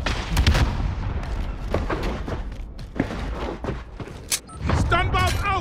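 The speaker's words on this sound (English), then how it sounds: "Stun bomb out!" A stun bomb goes off in a video game as one sharp burst among frequent thumps and game noise, with players talking over it throughout.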